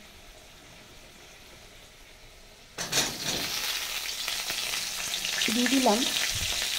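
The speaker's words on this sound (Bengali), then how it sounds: "একটুখানি লাল লাল করে ভেজে নিই সিম করে দিয়ে" Potatoes and flat beans frying in a pan, with a quiet start, then a sudden loud sizzle as food hits the hot oil and a steady crackle after it. A brief voice speaks over the frying.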